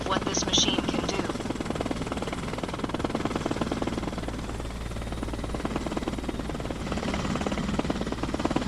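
A helicopter in the video game Arma Reforger straining through a hard bank, its rotor drone a dense, continuous buzzing roar that stays loud and steady throughout, with voices talking over it.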